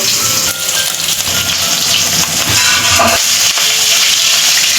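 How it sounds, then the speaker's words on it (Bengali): Snakehead fish frying in hot oil, a dense, steady crackling sizzle that stays close and loud throughout with no talking. "মাছগুলো এপিট এপিট করে ভেজে নেব"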